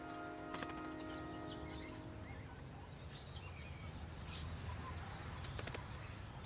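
Parrots calling in an Australian suburb: scattered chirps and squawks at low volume, with a brief harmonic call near the start, over soft outdoor ambience.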